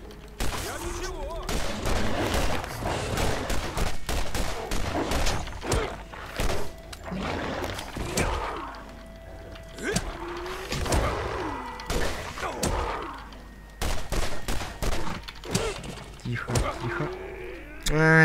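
Rapid bursts of gunfire in the video game Borderlands crackle repeatedly, mixed with mechanical effects, while a person talks over much of the action.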